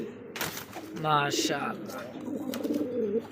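A black Bombay pigeon cooing close by, a few rolling, throaty coos repeated in short bursts, with someone talking over them.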